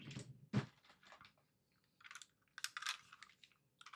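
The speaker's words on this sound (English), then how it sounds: "Get a tape roller." A tape roller runs adhesive along a paper card base, giving short, close crackly rasps and clicks in separate bursts against near silence.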